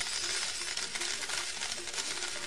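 Gold coins are tossed down in a continuous metallic jingle, a dense faint clatter of many small pieces with no clear gaps, no voices.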